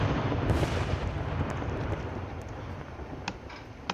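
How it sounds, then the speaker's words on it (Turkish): A bomb blasts in the Roblox ragdoll engine game, a loud, close, broad rumbling roar that holds steady and slowly fades, with a few faint pops near the end. "Aa elinde bomba var onun."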